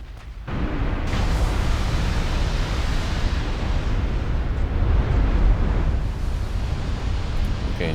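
Shell impacts on a battleship in the naval strategy game Ultimate Admiral Dreadnoughts, set in 1963: a sustained, loud roar of explosions and rumbling with no clear separate strikes, continuing steadily throughout.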